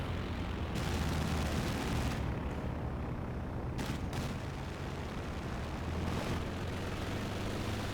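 Sustained Katyusha rocket artillery barrage in Company of Heroes 2, a dense, continuous roar of launches and explosions with repeated bursts, loud and close throughout with no pauses.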